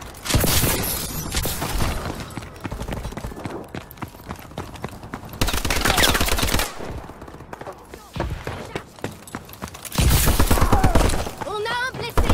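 Gunfire in the Call of Duty video game comes in loud bursts of rapid shots at the start and again around the middle and end, with game voices and sounds filling the quieter stretches.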